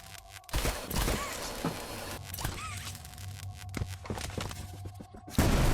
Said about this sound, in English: I suddenly heard an explosion.